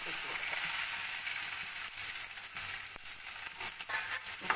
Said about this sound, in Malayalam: നമുക്ക് സവാളയും ഒരു പച്ചമുളകും ഞൊര അരിഞ്ഞത് നമുക്ക് ഇട്ട് കൊടുക്കാം